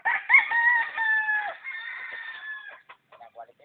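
A derby gamecock rooster crows loudly and close by in one long, wavering call. A few softer clucks follow as it fades out.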